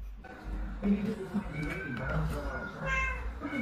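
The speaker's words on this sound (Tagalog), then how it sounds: "Yan ang mga alaga namin pusa" Domestic cats meow a few times amid steady background noise, with people talking nearby.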